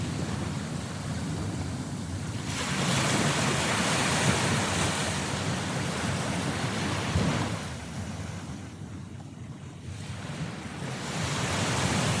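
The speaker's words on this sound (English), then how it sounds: "Waters, nothing but waters. Again I was in the middle of the sea." Ocean waves surge and wash continuously out at sea, with wind roaring across them in broad rising and falling swells and no voices.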